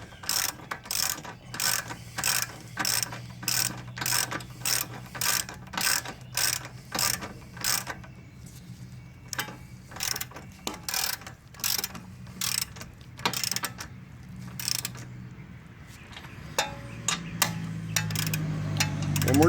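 A 24 mm ratchet wrench tightens an engine mount bolt on a 2013 Hyundai Sonata 2.4L, clicking in quick bursts of pawl ticks with short pauses between strokes, close and fairly quiet, with a faint whir near the end.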